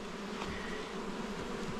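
Honeybees buzz steadily and loudly at close range during a feisty hive inspection, a dense unbroken drone of many agitated bees.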